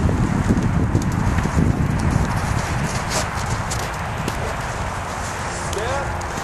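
Hooves of a six-year-old Andalusian mare moving around a training pen, a steady run of soft thuds under a trainer's spoken cues and a faint ambient hiss.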